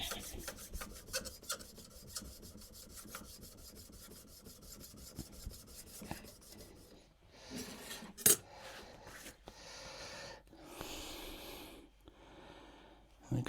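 A Marples hand plane blade is rubbed back and forth on a sharpening stone in steady rhythmic strokes, close up, then pauses give way to breathing, scattered clinks and some talk.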